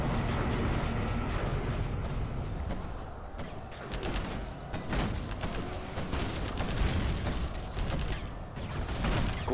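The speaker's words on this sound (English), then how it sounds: "Launching Scudstone." In the video game Command & Conquer Generals, a Scud Storm missile launch produces a continuous roaring, crackling rumble of blasts and mechanical noise that persists throughout at moderate level.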